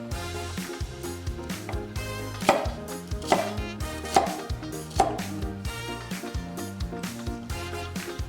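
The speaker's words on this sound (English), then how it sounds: "The next step is to cut the vegetables." A knife chops vegetables on a cutting board for home-cooked Korean food, crisp evenly spaced strikes landing roughly every second, with soft music running underneath.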